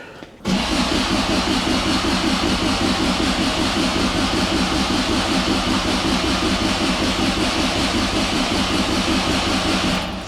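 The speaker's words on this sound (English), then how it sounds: "We just got to keep cranking here." A 1972 Toyota Celica engine with freshly overhauled Mikuni 40PHH carburetors cranks on the starter: a loud, fast, even churning held for about ten seconds without catching.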